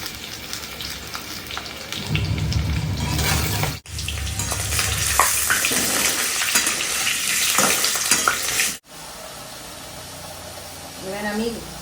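Chicken curry sizzling and frying in a pan, with stirring and broadband hiss that runs steadily through most of the clip, dropping out briefly at two points and continuing at a lower level at the end.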